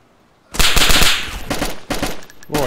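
Sudden close bursts of automatic gunfire in a video game, rattling loudly in several volleys with short pauses between them.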